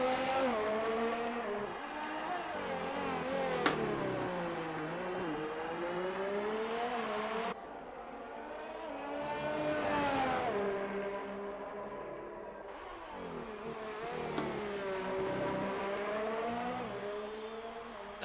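Racing karts in a racing game driving past, engines whining and revving through repeated rising and falling pitch sweeps as they pass, with no talk.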